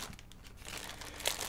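Quiet crinkling of plastic packaging being handled and pulled open, close up and brief, with a sharper crackle near the end.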